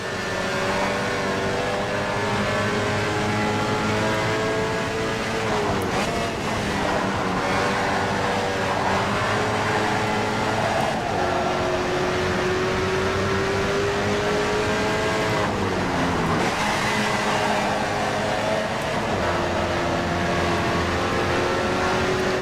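Mazda MX-5 Miata, a light low-powered sports car in the rFactor 2 racing simulator, its engine droning continuously and loudly, pitch climbing through the gears, dipping sharply on downshifts under braking, then rising again.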